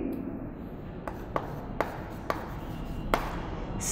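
Pen or chalk writing triangle names during a maths lesson makes a few short scratchy taps and strokes at irregular intervals, faint and close, over a low background hum.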